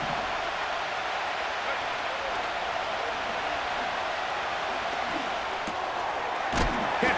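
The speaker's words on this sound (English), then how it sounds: "The crowd making their presence felt" Steady roar of a stadium crowd in the football game Madden NFL 25, a broad even wash of noise throughout with a few sharp thuds near the end.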